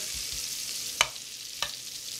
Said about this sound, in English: All right, get this butter in here.